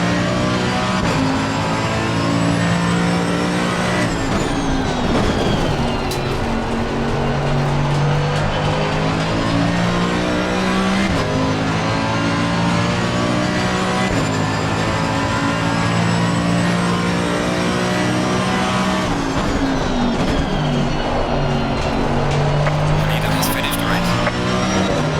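GT3 race cars roar around Watkins Glen in a racing video game, led by a Ferrari and an AMG, with engines climbing and dropping through the gears at close range, loud and continuous under steady commentary.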